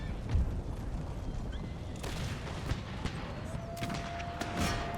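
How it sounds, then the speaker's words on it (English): Cannon fire booms repeatedly through a battle in Empire: Total War, alongside continuous low rumbling and scattered musket-like cracks, with a few sharper blasts standing out over the steady din. "The cannon are taking care of them."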